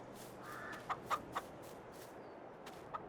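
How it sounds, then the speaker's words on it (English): Chickens clucking in the farming game Farming Simulator 22: a few faint, short clucks spaced irregularly against a quiet ambient background. "Hey, there's the roosters."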